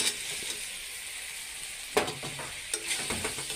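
Fried potatoes are stirred into a spice masala with oil and softened tomato, giving a steady sizzle with a few sharp scrapes and clatters of the spoon against the pan, close by and with no talk.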